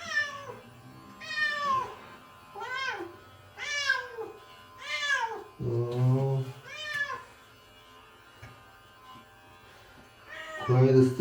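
A cat meows repeatedly during a beginner home grooming session, a series of drawn-out, rising and falling cries close by, with the buzz of electric clippers running at intervals underneath.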